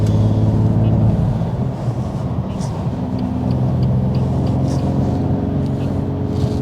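A BMW M2 Competition with its S55 engine drones steadily on a morning drive, a loud, continuous low engine hum from inside the car with shifting tones and no pause throughout.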